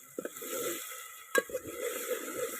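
Green garlic and chillies fry in oil while being stirred, with soft scraping strokes and a faint, quiet sizzle beneath.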